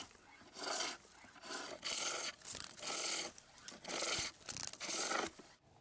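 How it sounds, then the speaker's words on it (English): A square chisel smooths a wooden rattle blank spinning on a lathe, giving a series of about seven quiet, raspy scraping passes, each a second or less, separated by brief pauses. "smooth the whole blank now with a square chisel"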